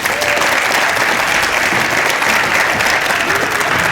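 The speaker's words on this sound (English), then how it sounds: "How about a big round of applause for beginning band?" Steady, dense applause from an audience at a beginning band demo night, a full continuous wash of many hands clapping close and loud for the whole stretch, with no talking over it.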